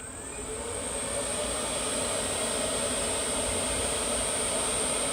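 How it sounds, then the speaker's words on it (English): A Yarbo robot blower module runs at its low speed setting, giving a steady, loud rushing whir that holds constant and alone, with no talk over it. "So this is the Yarbo blower, folks."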